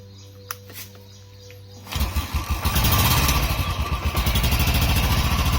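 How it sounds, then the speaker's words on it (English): A Royal Enfield motorcycle engine fires up after a kick-start in neutral, sputtering into a loud rhythmic idle with chugging pulses close by; faint birdsong before it starts. "So automatically your bike will get started."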